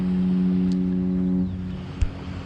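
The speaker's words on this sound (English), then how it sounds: "you hear the ship now" A ship sounds its deep, steady horn while coming into the harbor at Hilo bayfront. There is one long, low blast that fades out, followed by a faint knock, with no talk.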